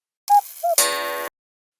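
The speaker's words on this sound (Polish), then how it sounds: "w przypadku zegara z kukułką, fazy wstępnej, czyli rozkręcania się mechanizmu, fazy kukania z uderzeniem w gong" Cuckoo clock calling two short cuckoo notes, followed by a ringing gong strike that sustains briefly, recorded close and clean against silence via Arduino.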